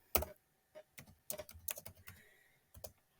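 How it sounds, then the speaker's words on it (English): Keystrokes on a computer keyboard while entering a search term in craft design software, a quick irregular run of close, crisp clicks with short pauses between bursts. "Now I'm going to click Browse All Materials, and then I'm going to type in"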